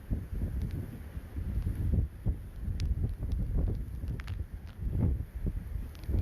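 Tropical storm wind gusts roar in bursts against the microphone outdoors as trees bend sideways, a low rumbling buffeting that rises and falls with scattered small knocks, fairly faint overall.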